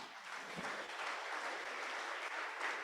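A church congregation at an anniversary service applauds for God, a dense, even wash of many hands clapping that holds steady throughout.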